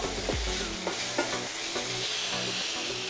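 Ginger paste frying with cooked onion in a pan, a close steady sizzle broken by several scraping stirs of a spoon.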